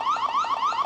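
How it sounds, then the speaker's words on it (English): Siren alarm of a Roku Indoor Camera, a repeating rising electronic whoop cycling rapidly several times, steady and moderately loud with no voices. "and then you get a little siren there."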